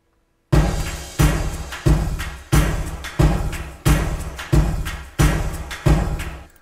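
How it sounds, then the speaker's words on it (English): Drum loop in a music production session: heavy punchy hits land in a steady repeating pattern roughly every two-thirds of a second, each decaying with a bright crashing tail, loud and alone after a brief silence. "again, all the drums sound like this."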